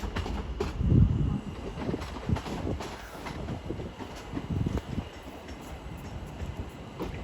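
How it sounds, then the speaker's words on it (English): A London Overground train pulls out of Watford Junction station with a low, rumbling roll and irregular thumps and clatters, fairly faint, with some wind noise over the microphone. "London Overground service to London Euston departs"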